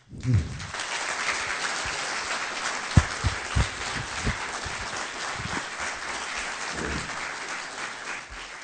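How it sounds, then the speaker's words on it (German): Warm, steady applause fills a lecture hall as the audience welcomes author Willy Wimmer, a dense even clapping with a few louder claps standing out, running without talk. "Ich möchte Sie bitten, nochmal mit einem herzlichen und großen Applaus Willi Wimmer zu begrüßen."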